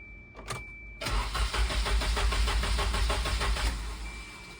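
A Volvo 240 engine with timing trouble turns over briefly, then catches and runs loud and close with a steady rumbling idle that continues for several seconds.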